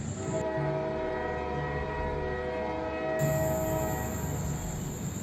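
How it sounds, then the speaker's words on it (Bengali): A diesel train rumbling beneath a bridge, heard as a steady, heavy roar with a sustained high horn tone that continues and swells toward the end. "এই ট্রেন ডিজেল ট্রেন, তাই ধোঁয়া নেই, শুধু বুক কাঁপানো গুরুগম্ভীর শব্দ আর চোখ ঝলসানো হেডলাইটের আলো।"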